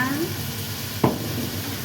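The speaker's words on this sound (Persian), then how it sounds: "خب قارچمون رو تفت میدیم." Mushrooms sizzle steadily in a pan while being sautéed, with a single sharp scrape of a spoon stirring them partway through; a voice is briefly heard at the start.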